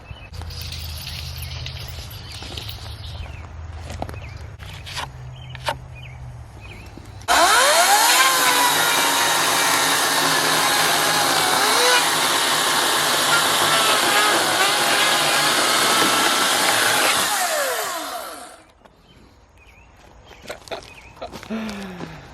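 A chainsaw roars loudly for about ten seconds while cutting a silver maple log, preceded by quieter idling and handling noises, then cuts off.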